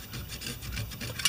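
Scored cylinder of a damaged Briggs small engine scraping as it is turned over by hand: a faint, rough rasping and rubbing noise in uneven pulses, close up and quiet, with no talking.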